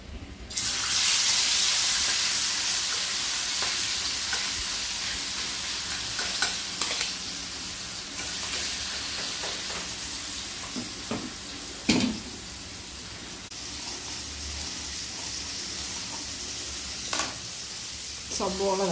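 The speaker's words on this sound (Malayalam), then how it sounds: "ചെമ്മീൻ വറക്കും ചെയ്യാം, ഒരടപ്പത്ത് മസാലയ്ക്ക് നമുക്ക് സബോള വഴറ്റും ചെയ്യാം." Prawns frying in one pan and onions sautéing in another, a steady loud sizzle with scattered stirring clatters and utensil knocks close by, a voice talking faintly now and then.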